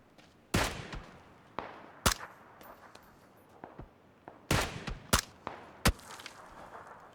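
Sharp, isolated gunshots in a competitive PUBG match ring out one or two at a time at irregular intervals, some loud and close, others fainter, with brief scattered rustles between them.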